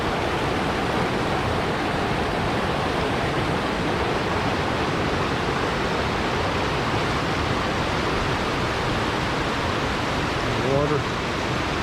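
Creek water at Dutchman Falls rushing in a constant, loud, dense roar that carries unbroken throughout, with no voices over it.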